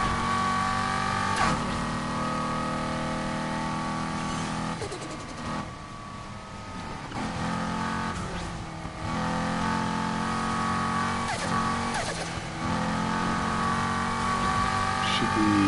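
Race car engines in Need for Speed Heat, including a C6 Z06, rev and drone loudly and continuously, rising and falling with gear shifts, while a player talks over them.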